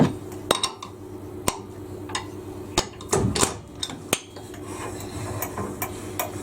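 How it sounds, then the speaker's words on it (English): A wooden lathe chuck tapped to knock sawdust loose, giving a run of sharp, hard knocks at irregular intervals, close and fairly loud, with scraping and rattling between the strikes. "I'm actually just going to take the chuck off again and just tap it to get all the"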